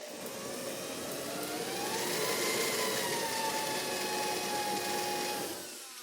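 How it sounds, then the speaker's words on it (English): Spot weld cutter drilling slowly under light pressure through a spot weld on a car rocker panel during replacement, a steady loud whining grind lasting the whole stretch with no talk. "And you can make a nice spot weld cut that way without fighting it."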